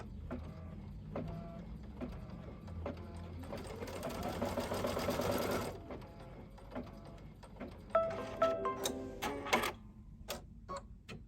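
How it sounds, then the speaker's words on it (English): A sewing machine stitches fabric down with the presser foot lowered, its rapid mechanical whirring running in bursts of steady rhythm alongside clicks and handling noises, fairly close and clear with no talk. "Lower the presser foot and stitch it down."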